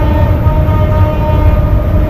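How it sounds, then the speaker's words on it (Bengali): Loud, steady low rumble of a moving train heard from on board, continuous rolling rail noise with a faint tonal hum, no voices over it. "আমাদের ট্রেন যাচ্ছে"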